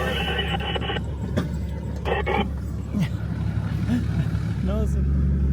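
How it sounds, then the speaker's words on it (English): A car engine rumbles steadily while reversing along a sandy track on Fraser Island, a low continuous drone under frequent talk from people inside. "I have to reverse all the way back."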